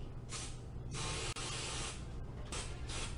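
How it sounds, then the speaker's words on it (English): Several short hissing bursts of cooking oil spray onto a pan, close and sharp, with brief gaps between them. "Don't spray too much because you might die."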